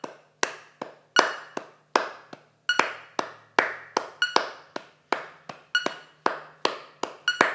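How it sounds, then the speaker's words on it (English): Sharp hand claps keep time against a metronome pulse in a practice exercise for internalising a swing feel, about a dozen crisp, evenly spaced claps with a faint steady tone beneath, close and clear with no talking. "Alternate by clapping with the metronome pulse again for a bar or two"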